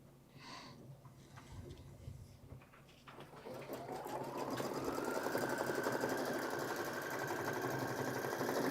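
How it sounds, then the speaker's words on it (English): A home sewing machine stitches a placement outline for a leafy appliqué quilt piece, its motor whirring steadily and rising into a continuous close hum. "So I do a placement stitch for it first."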